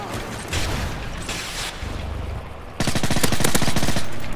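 Machine pistol gunfire in Modern Warfare 3: several bursts of loud, rapid shots, the last burst long and sustained, with busy game noise in between and no voices.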